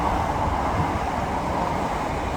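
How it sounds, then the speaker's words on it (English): A Class 375 Electrostar electric train passes through a station on a platform, giving a steady broadband rumble and rush at moderate loudness over the short span, with no talking. "Another electrostar 375 passing on platform 1"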